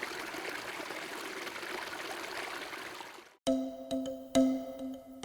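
A mountain stream flows down the Sierra del Segura in Albacete, a steady close rushing of water that cuts off abruptly after about three seconds and gives way to ringing tones with sharp clicks.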